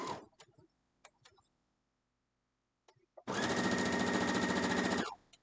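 A sewing machine stitches a quilt block in one sustained, loud run of about two seconds near the end, following a few light clicks and quiet handling sounds.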